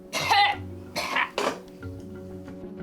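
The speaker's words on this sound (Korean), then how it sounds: "고통스런 기침을 하기 시작하는 여자." A woman coughs in harsh, strained bursts from a snack stuck in her throat, three hacking fits close by, with faint clinking of dishes in the background.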